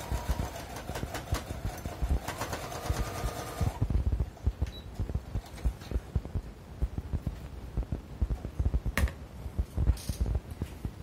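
Sewing machine stitching the seam of a fabric school pencil case with zipper and batting layers, a steady rapid mechanical whir for about four seconds, then irregular clicks and handling taps.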